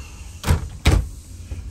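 A storage compartment door on a 2021 Holiday Rambler Admiral 34J motorhome is opened, giving two close, short thumping clunks about half a second apart and then a faint tap.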